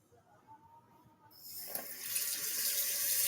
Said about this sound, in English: I'm going to rinse the spoon that I used to scoop the cheese soup and cream of mushroom.